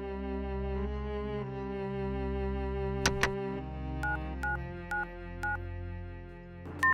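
Telephone keypad tones beep in a short series over a quiet musical background in a Bengali cartoon, two quick tones followed by four evenly spaced beeps and a final tone, with no voices.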